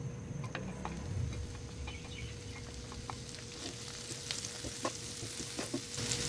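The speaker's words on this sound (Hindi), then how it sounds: "पैन में हम 1 स्पून के करीब देसी घी डालेंगे। अब बादाम, पिस्ते और खजूर इसमें फ्राई करेंगे।" Almonds, pistachios and dates frying in about a spoonful of desi ghee in a pan, heard as a quiet, steady sizzle dotted with soft crackles and light ticks.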